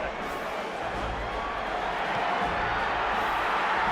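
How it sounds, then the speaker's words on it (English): A rugby stadium crowd at South Africa v New Zealand in 2014 roars after Patrick Lambie's long-range penalty for South Africa, a dense, sustained wash of cheering that swells louder in the second half. "The crowd will tell you."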